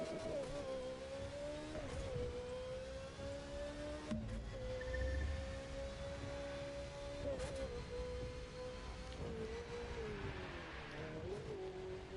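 McLaren F1 car engine in the video game The Crew 2, a steady droning engine note that rises and dips as it revs, held continuously and fairly quiet.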